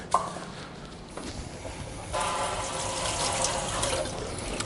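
A large carrot is rinsed under a running kitchen tap, water splashing steadily after a short quieter start, close and soft.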